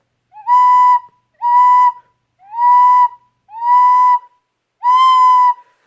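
Five separate recorder notes at one pitch, played without tonguing, each swelling in softly and scooping slightly upward before settling, with short gaps between; clear and close, no talking.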